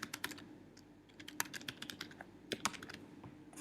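A computer keyboard clatters as a website address is typed, with quick, close, fairly quiet keystrokes in uneven bursts and no talking.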